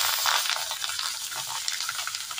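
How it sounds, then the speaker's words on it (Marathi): Mustard seeds, cumin, asafoetida and chillies sizzle in very hot oil, giving a steady, close, crackling hiss with small pops and no talking. "मोहरी टाकायची, जिरे टाकायचं, हिंग टाकायचं आणि मिरच्या टाकून घ्यायच्या।"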